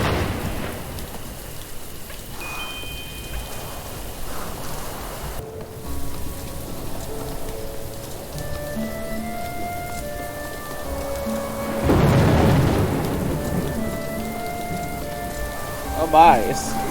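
Rain and thunderstorm in the video game Little Goody Two Shoes, with steady rain pattering on surfaces throughout, a swelling rumble of thunder midway, and faint musical tones drifting over the downpour.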